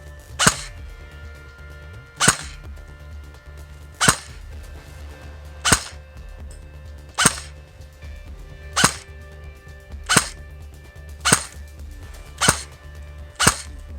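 An E&L AK 102 airsoft rifle fires 0.20 g non-bio BBs on a 7.4 V battery, producing ten sharp, loud single shots spaced roughly 1.5 seconds apart over a steady low background hum.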